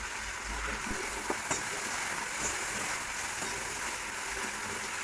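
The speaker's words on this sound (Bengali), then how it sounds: "ভালো করে আমরা ভেজে দেবো তাকে। আলুটা আমাদের ভাজা হয়ে গেছে।" Potatoes fry in a pan with salt and a little turmeric, a steady close sizzle with a few small clicks and stirring sounds in the first seconds and no talk.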